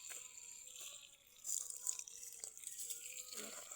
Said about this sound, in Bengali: এই মুহূর্তে পানি দিচ্ছি গাছে